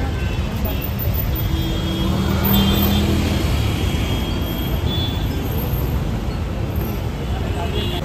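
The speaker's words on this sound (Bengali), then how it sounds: "রাস্তায় ভালোই জ্যাম আছে" Jammed road traffic in Kolkata on a festival evening, a steady close rumble of car and bus engines with a continuous roadway hum, while people talk over the noise.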